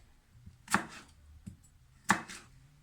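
A knife slices vegetables for homemade pickles in a few separate crisp chops against a cutting board: one faint, two louder, then another faint one. The chops are close and stand out against quiet, with no talking.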